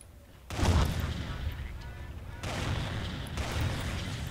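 Weapons fire in MechWarrior 3, a dense roar of booming shots and blasts that swells in waves, loud and continuous through the whole stretch.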